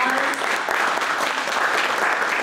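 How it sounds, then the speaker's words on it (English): An audience at a Juneteenth celebration applauds in a brief, loud, steady burst of dense clapping. "Give yourselves a round of applause."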